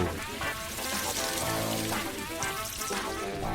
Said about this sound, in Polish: A teraz spłuczemy całą pianę wodą.